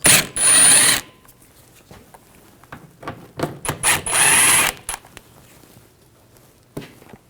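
Ratchet with a T15 socket backing out trim screws on a 2014-2018 GMC Sierra 5.3L V8: two loud, close bursts of fast clicking, separated and followed by scattered softer clicks and handling knocks.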